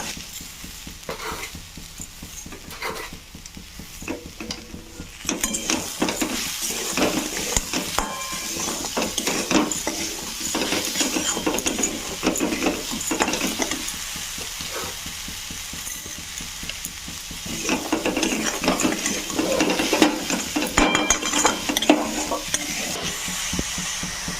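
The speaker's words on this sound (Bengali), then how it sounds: "কিছুক্ষণ নাড়ানো হয়ে গেছে" Sugar being stirred into a frying pan: a spatula scrapes and clinks against the pan in a steady, busy rhythm over a soft sizzle, close and continuous with no talking.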